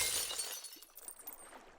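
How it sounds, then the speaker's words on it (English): Glass shatters in a children's read-aloud story: a quiet burst of breaking glass fades into a few faint scattered tinkles of falling shards, with no voice over it. "Slob Beast broke the glass and flooded the floors."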